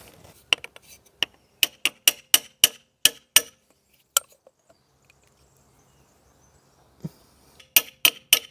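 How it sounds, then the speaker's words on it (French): A Renault Clio 2 RS door seal being tapped into place using the old seal and a socket: a run of sharp, evenly spaced knocks, a short pause with a few softer taps, then another quick burst of taps, close and distinct with no talking. "Moi, je vais venir tapoter avec l'ancien joint et une douille."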